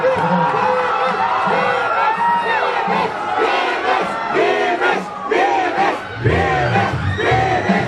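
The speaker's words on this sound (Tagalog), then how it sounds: "Titignan mo sino yung pinakamalakas yung sigaw." A large crowd yells and cheers loudly at a band concert, many voices shouting together in a continuous, energetic roar.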